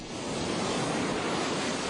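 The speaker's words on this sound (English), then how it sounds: "The sea is calming for Stephen Carey. Here, the crashing waves help him forget" Ocean waves break and crash steadily on the shore as a continuous loud wash of surf, with some wind noise on the microphone and no voices.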